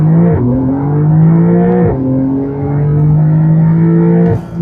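Loud, close engine drone of a 2021 Porsche 911 Carrera 4S held on the brake, a steady low rev tone with a couple of brief dips and gear-like shifts, ending in a sudden drop.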